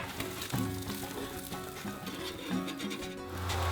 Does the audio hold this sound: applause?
no